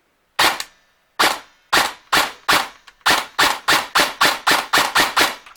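A VFC HK416C airsoft rifle fires about a dozen sharp, loud single shots on semi-auto, starting with uneven gaps and then settling into a quick, steady rhythm, each crack standing alone with no talking.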